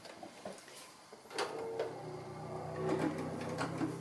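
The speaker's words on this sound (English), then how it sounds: "So I'll just go ahead and I'll stitch this seam." A sewing machine stitches a seam on a toad-shaped pin cushion, a short, soft run of motor whir and needle clatter that builds after a pause, quiet and close with no talking.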